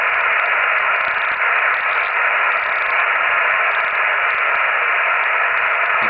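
Steady hiss of band noise from a Yaesu FT-100 amateur radio receiver tuned across the 80 metre band with no signals present, loud and continuous throughout with faint rustling fluctuations.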